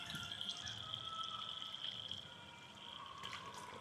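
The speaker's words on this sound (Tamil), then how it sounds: "டாக்டர் சாயில் பயோ ஃபெர்டிலைசர் இப்போ வந்துட்டுருக்கு ட்ரிப் மூலிமா எல்லா தென்னைக்கும்" Liquid bio-fertilizer runs through a drip irrigation line feeding coconut trees, a faint, continuous trickle and hiss with steady tonal whine, no voices.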